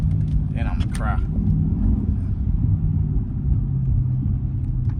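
A Dodge Charger RT drives in the rain with a steady low engine rumble and road noise close up inside the car, and a voice speaks briefly over it.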